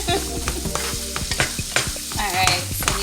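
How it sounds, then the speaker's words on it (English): Food sautés in a pan with a loud, continuous sizzle, broken by repeated scraping and stirring knocks from a utensil close by, no talking. "these are starting to saute down a little bit"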